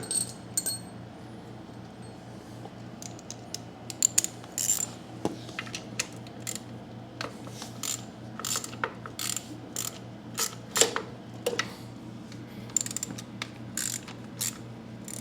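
A hand ratchet clicks in quick bursts while removing the two bottom guard bolts on a Hydro-Gear ZT-2800/3100/3400 transaxle, close and fairly quiet, with metallic taps and clinks between the strokes.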